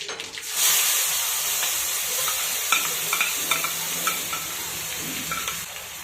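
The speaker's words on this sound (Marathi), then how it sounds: "दोन्ही छान तडतडलं, कांद्याची प्युरी टाकून घेऊयात" Onion puree sizzles and hisses in hot oil with tempered mustard seeds and cumin, a steady close frying noise with occasional stirring scrapes and small pops.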